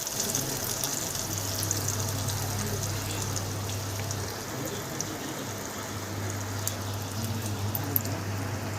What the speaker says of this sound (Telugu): కొంచెం మిక్సీ జార్లోని వాటర్ వేసుకొని ఆ వాటర్ని కూడా అందులో వేసుకొని కలబెట్టుకోవాలి